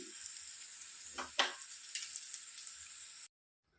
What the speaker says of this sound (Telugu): ఇలా బాగా ఫ్రై చేసుకొని ఇంకా గ్యాస్ ఆఫ్ చేయడమే